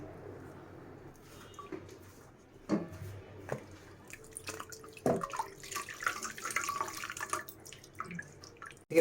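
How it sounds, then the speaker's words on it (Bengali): Water flows over a reusable racing air filter as it is rinsed, giving faint running water with intermittent splashes and drips that grow busier toward the end. "এখন এরকম একটা পানির ফ্লোতে কনসিস্টেন্সিতে আমরা এটা এইভাবে আস্তে আস্তে ক্লিন করে নেব"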